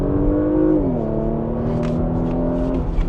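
Porsche Macan GTS with PDK gearbox pulling in third gear, its engine note holding a steady loud drone that dips briefly in pitch before settling and climbing gently, with a few faint crackles near the end.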